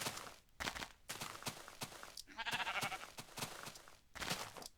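Sheep bleating in the Minecraft video game, a string of short, fairly loud nasal bleats repeating with brief gaps, with a soft footstep-like patter in the background.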